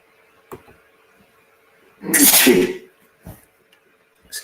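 A single loud, sharp sneeze bursts out in the middle, with faint clicks of dice or small objects before and after in an otherwise quiet room.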